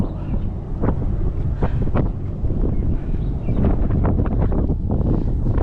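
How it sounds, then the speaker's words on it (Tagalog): Steady, loud wind buffeting the microphone on the Lanikai Pillbox hike, a constant low rumble with gusty surges throughout and no clear voices. "Hangin na ulit, mom."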